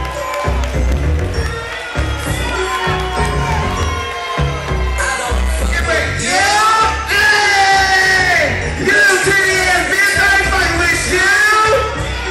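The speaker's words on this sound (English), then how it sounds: "Let's give a round of applause." A nightclub crowd at the Rubicon Night Club cheers, yells and whoops for a live performer, loud and sustained throughout, blended with music.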